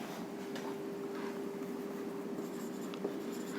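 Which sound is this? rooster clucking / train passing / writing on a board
writing on a board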